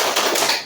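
A classroom of students claps the rhythmic tepuk semangat cheer, a brief, loud burst of quick patterned hand claps.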